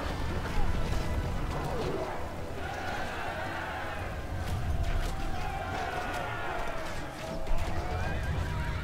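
Horses whinny and neigh over a dense, continuous rumble of galloping hooves in the fantasy battle game Battle for Middle-earth, with rising and falling calls layered across a busy battlefield din.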